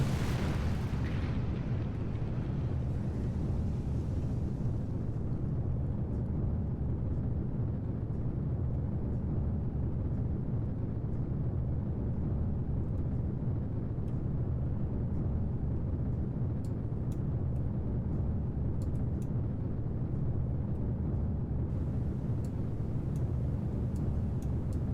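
Rocket lifting off the pad in Kerbal Space Program: a steady, loud, dense engine roar that holds unbroken throughout, with faint crackle at the top, no talking.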